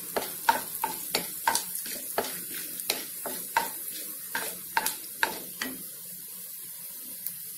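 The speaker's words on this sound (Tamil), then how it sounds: "ஆயில் சூடானதுக்கப்புறம் கடலைப்பருப்பு போட்டுக்கலாம்" Chana dal fries in hot oil in a pan, a steady soft sizzle broken by repeated sharp scraping stirs of a spoon at a quick, uneven rhythm.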